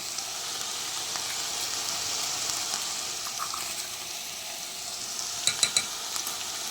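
Brinjal curry sizzles steadily in hot oil as chili chutney goes in, with a few sharp scraping stirs near the end; no one talks.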